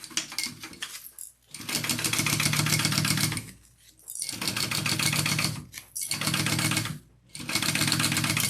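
A sewing machine top stitches along a pleat on a tote bag, running in steady close bursts of rapid needle chatter separated by short pauses.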